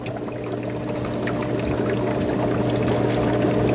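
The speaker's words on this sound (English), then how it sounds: "So I'm going to pour this water in." Salt water pours steadily into a brine shrimp tank, a close, continuous gushing splash that holds at an even loudness throughout.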